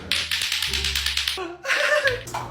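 A lato-lato clacker toy's two balls knock together in a fast, steady run of sharp plastic clacks, close by, with other tonal sounds playing underneath.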